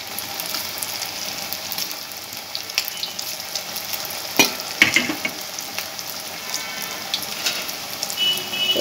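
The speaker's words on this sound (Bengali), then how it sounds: "এরপর আমি তেলে দিয়ে দিচ্ছি ভাজার জন্য" Mini patties made from leftover flatbread fry in hot oil over high heat, producing a continuous close sizzle with bubbling crackle and a few louder spattering pops, no voices.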